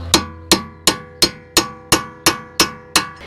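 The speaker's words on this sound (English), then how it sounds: "Now I'm going to use a punch and restake the flange here to prevent that from backing out." A steel punch struck by a hammer nine times in a steady rhythm, restaking the axle nut flange on a Toyota Sienna; sharp, close, ringing metallic taps with no talk.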